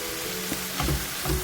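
Minced keema fries with green chillies in a hot pan, giving a loud, steady sizzle with a few soft stirring scrapes over a brief stretch.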